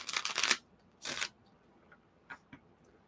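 Tarot cards being shuffled by hand at a reading table, heard as two short, crisp riffling bursts followed by a few faint, light taps and slides, with no talking.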